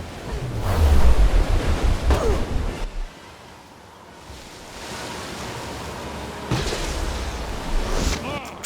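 A tsunami wave rushes in within the LEGO Star Wars Skywalker Saga video game. A loud, rumbling surge of water opens the scene, fades to a quieter wash, then swells again with heavy booming bursts.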